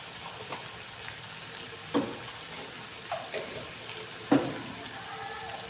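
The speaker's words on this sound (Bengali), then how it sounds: "ভালো করে কষিয়ে নেব আমি।" Jackfruit with turmeric and salt, cooked with shrimp, is sautéed in a pan, giving a quiet, steady sizzle with occasional sharp knocks of a spatula against the pan.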